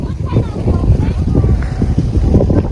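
Strong, cold gusty wind in Slovakia buffets the microphone with a low, continuous roar, heavy and close, with a voice faintly beneath it.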